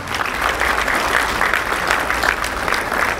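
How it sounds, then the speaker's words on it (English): A crowd at a community association convention in Houston applauds a former president, a continuous, even wash of many hands clapping for a few seconds, fairly loud and close. "A round of applause for him, please."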